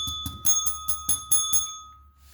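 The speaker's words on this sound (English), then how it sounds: "Frickin' bell." A small bell rings in a rapid series of about eight bright metallic dings, each with a sustained ringing tone, loud and close, then fades out.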